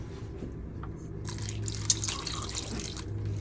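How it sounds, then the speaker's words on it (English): Water is poured into a pot of mussels, a close, continuous splash and trickle that swells partway through and then keeps running steadily, with no one speaking. "So adding just a little bit more water."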